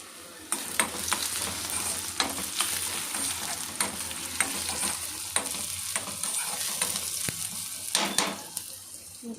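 Tomato pieces fry in a pan for mushroom curry, giving a steady close sizzle broken by repeated scraping stirs of a spatula, with no talking.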